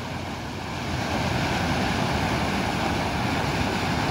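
The swollen Salgado river in Cariri, Ceará, rushes after heavy rains, a loud, dense, unbroken roar of flowing water with some wind buffeting, heard close and without talk.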